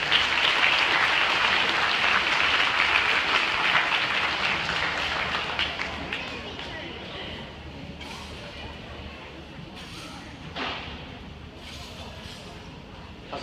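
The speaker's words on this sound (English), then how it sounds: "Everybody get involved in a big round of applause for volunteers" Audience at an illusionist's show gives a big round of applause for the volunteers, a dense, loud clapping wash that gradually thins and fades, with murmuring voices underneath toward the end.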